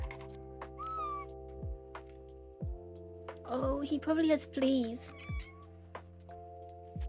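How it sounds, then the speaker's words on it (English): A frightened, dirty stray kitten that wandered into a garden meows several times, thin and close, between people talking softly over a steady background hum. "This little kitten wandered into our garden and he was very dirty."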